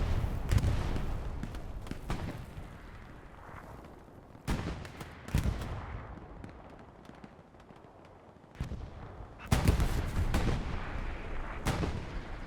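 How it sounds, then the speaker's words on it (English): Bombing-run explosions in a multiplayer shooter match, heavy booming blasts arriving in clustered bursts, with rolling rumbles between them and sharper, louder volleys near the end. "One bombing run answered with another bombing run."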